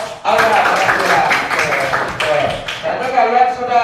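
A classroom of students applauds a student group, a close, loud burst of many hands clapping that keeps going unevenly for several seconds.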